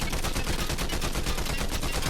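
Rapid automatic gunfire aimed at a car in the video game Fortnite, a dense string of evenly spaced loud shots rattling continuously for about two seconds.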